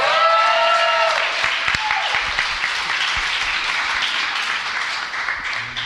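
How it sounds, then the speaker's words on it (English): Applause from a live audience at a podcast event, loud and sustained with individual claps audible and a voice briefly over it at the start. "So can we hear another round of applause for Julie?"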